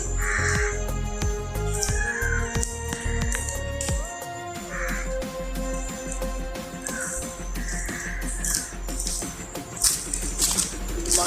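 Crows caw repeatedly in an outdoor setting in Poonakary, Kilinochchi, as they come to eat food set out during a Puraddaathi Saturday fast. The harsh calls overlap at close to medium range over a steady background.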